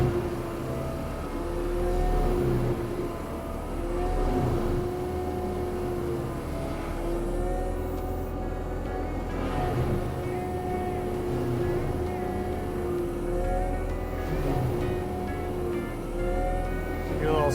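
Skid steer fitted with a heavy-duty mulcher attachment spinning and chewing into old wood, a steady loud engine and rotor drone with wavering pitch and occasional grinding surges.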